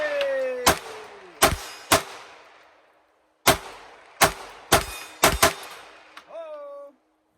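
Gunfire from a firearm fed by S15 magazines at a steel target gives seven sharp, loud shots, each with a ringing metallic clang. They come in two uneven bursts split by a short pause, and a brief voice follows at the end.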